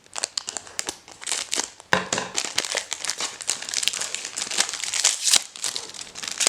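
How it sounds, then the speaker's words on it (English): Scissors slice open the foil wrapper of a Transformers trading card pack, producing continuous close crinkling and crackling with brief tearing bursts, no voices. "Still going with the scissors on this one."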